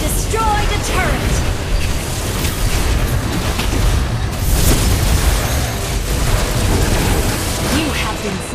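In the Mobile Legends video game, a turret is destroyed with a booming explosion that swells into a dense rumble and burst, amid ongoing game sounds and an announcer voice.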